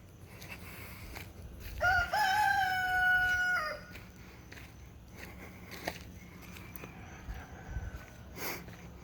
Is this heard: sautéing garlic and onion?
no